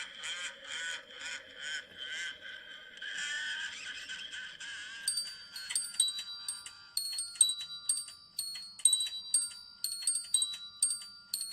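Krampus bells ring brightly and metallically in quick repeated strikes, first with a blurred chorus of tones, then sharper clanging jingles that pulse in an uneven rhythm.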